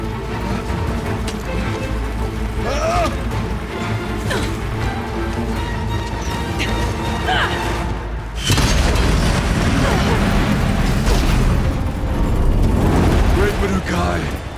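In Horizon Zero Dawn, explosive ammo blasts erupt amid loud battle clatter, with a heavy boom and crash near the middle followed by sustained rumbling combat noise; a voice talks over it.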